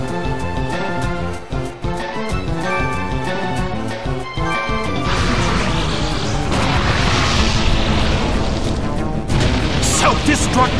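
A Pokémon move explodes in Pokémon Battle Revolution, a sustained loud crashing blast rising midway and rumbling on for several seconds, following a stretch of game music and commentary-like voice.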